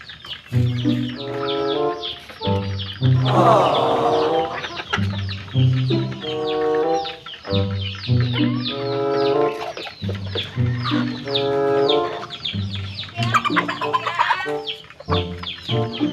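Young hens not yet laying cluck steadily and loudly nearby, their calls overlapping in busy repeated bursts with no talking.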